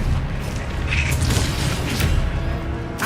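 A dense, booming magical burst from the Expelliarmus disarming spell in the Hogwarts Legacy video game, loud and continuous with a rumbling low end and brief bright flares.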